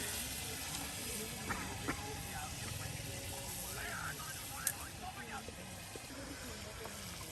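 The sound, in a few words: spices (masala) frying and sizzling in a pan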